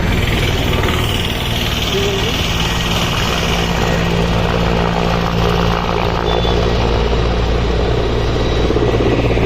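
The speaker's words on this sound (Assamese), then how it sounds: "আৰ্মি কেম্পতে লেণ্ড কৰিছে হেলিকপ্টাৰ" A helicopter near an army camp in hilly Likabali, Arunachal Pradesh, heard as a loud, constant rumbling drone mixed with heavy wind noise from a moving motorbike, with a person talking over it.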